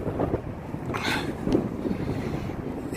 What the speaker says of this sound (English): You feel the wind or hear the wind.